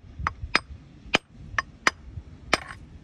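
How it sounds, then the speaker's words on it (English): A hammer's cleave end strikes rock on the beach at Lyme Regis to split out an ammonite fossil, six sharp, close clinking blows spaced irregularly over a few seconds. "Give it a really good crack with this cleave end of the hammer."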